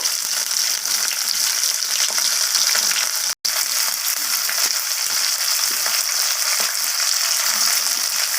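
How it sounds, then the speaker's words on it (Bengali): Bitter gourd and okra fry in hot oil in a pan, giving a dense, continuous hissing sizzle that stays loud and close throughout, with one brief dropout partway through. "উচ্ছে আর ভেন্ডিটাকে একসাথে আমি লাল লাল করে ভাজা ভাজা করে নেব"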